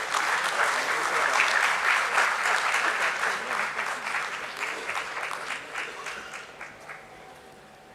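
Sustained applause from a crowd at a stock exchange listing ceremony for DOMS Industries, dense clapping that holds steady and then gradually fades over several seconds.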